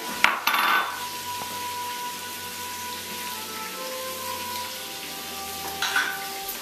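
Beef and pork mixture with Sun-Maid raisins being stirred in a pan, a steady soft sizzle and scrape continuing throughout with a couple of louder clatters at the start and end.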